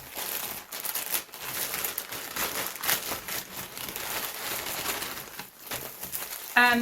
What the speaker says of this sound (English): excuse the rustling while I open it